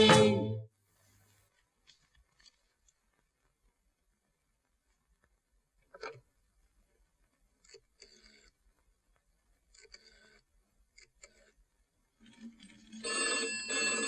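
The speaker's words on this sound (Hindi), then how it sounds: "नीतू, फोन सुन" A telephone rings in a home, starting with one loud ring, then several fainter intermittent ring bursts follow over quiet gaps before a louder sustained tone at the end.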